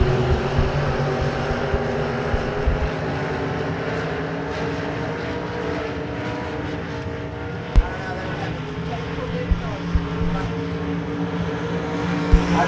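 Limited-class race cars roaring around a dirt speedway during a six-lap heat race, a continuous loud engine drone with a few sharp knocks, and an announcer talking over it.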